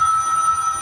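A telephone rings in the Skies of Arcadia Legends game session, a steady electronic bell tone sustained through the short moment, fairly loud and close with no talking.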